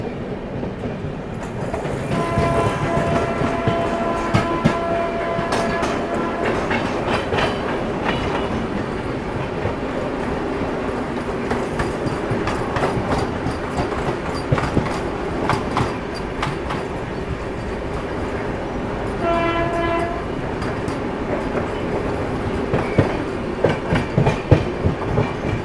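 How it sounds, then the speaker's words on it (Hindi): A Varanasi–New Delhi Vande Bharat Express passing close by for a long stretch, steady rolling roar with rhythmic clickety-clack of wheels over rail joints and occasional high squeals. "ये आ गई अपनी वाराणसी न्यू दिल्ली वंदे भारत एक्सप्रेस।"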